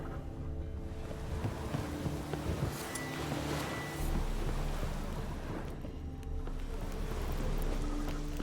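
Stormy weather in The Witcher 3 sounds as a steady wash of rain and gusting wind with rolling, surf-like swells, fairly faint and continuous, without a distinct thunder crack.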